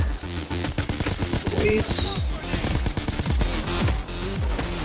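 Rapid bursts of gunfire from the video game Payday 2 crackle in quick succession over game music, with a brief spoken word in between.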